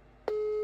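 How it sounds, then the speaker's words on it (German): A German telephone busy signal: a steady, clean tone that cuts in abruptly a moment after a short quiet start and holds alone to the end. "Es ist die ganze Zeit besetzt."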